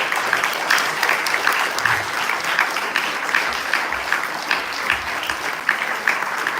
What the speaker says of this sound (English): let's give Willow another big round of applause